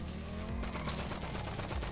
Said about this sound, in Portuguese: tem alguma coisa aqui do lado atirando em mim